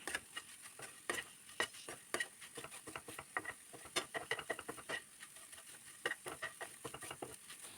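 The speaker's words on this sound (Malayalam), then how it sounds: "സവാളയുടെ മിക്സും മുട്ടയും എല്ലാം കൂടി മിക്സാക്കി കൊടുക്കാം" Egg and onion mixture cooks in a pan for bread masala while being stirred, with rapid close scraping and tapping of the utensil over a faint sizzle, no talk.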